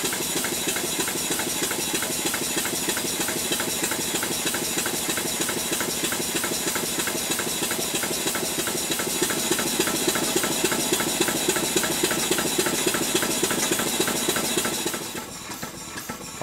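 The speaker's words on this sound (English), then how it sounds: "This engine is running rather well considering the position of the axle boxes." A 7¼-inch gauge model steam locomotive engine chuffs and hisses in a fast, steady mechanical rhythm for a long stretch, then abruptly quiets near the end.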